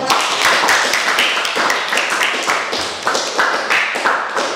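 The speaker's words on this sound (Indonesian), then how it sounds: "beri aplaus dulu dong" An audience applauds during a classroom group-counseling demonstration at a university teacher-training exam: dense, steady clapping that holds for several seconds, loud and close, with slight swells.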